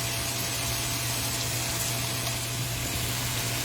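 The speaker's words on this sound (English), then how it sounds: "I'm going to add my onion, my garlic, my sage and thyme, and then let those cook until they're translucent." Onion, garlic, sage and thyme cooking in a pan, a steady close sizzle and fry without pause under a low hum, with no talking.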